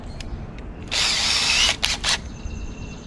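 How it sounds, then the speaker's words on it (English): A power drill fitted with a 1/8 inch bit bores into a kayak hull, giving a loud, high whine for about a second, then two short bursts as the trigger is feathered, in a quiet room. "I'm going to go with the 1/8" drill bit instead of the 5/32"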